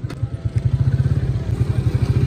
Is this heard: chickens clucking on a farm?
no